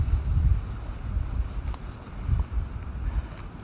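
Wind gusting outdoors in a garden on a cold day, with snow threatening; a steady low rumble of wind buffeting the microphone, swelling and easing throughout with no voices.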